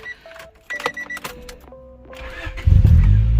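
A 1993 Honda Prelude Si is started up: a few electronic dash chimes and faint clicks come first, then the engine cranks and catches with a sudden loud, rumbling roar near the end, with no talk.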